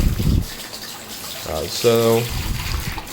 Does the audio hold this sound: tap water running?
yes